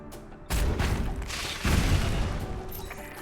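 Explosions in the turn-based strategy game Into the Breach: a sudden heavy boom followed by a second rumbling blast, loud and close, each leaving a lingering roar that fades slowly.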